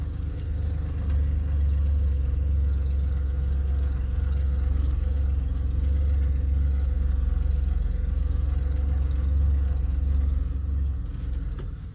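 A 1988 Chevrolet pickup truck engine running in third gear, low range, a steady deep rumbling drone heard close and loud from start to end, with no speech.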